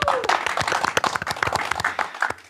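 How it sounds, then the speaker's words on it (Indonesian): An audience at an Indonesian talk on faith and family claps hands, a loose scatter of distinct claps, some sharp and near, fading out at the end. "Tepuk tangan dulu"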